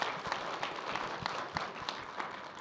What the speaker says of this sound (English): One last round of applause for Xiuyu.